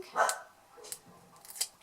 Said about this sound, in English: now somebody's going past, so the other one's barking